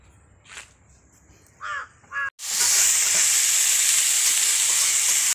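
Meat with a masala spice paste of ginger, garlic, onion and tomato dropped into a hot pan, breaking into a loud, steady, close sizzle after a few faint clicks and bird caws.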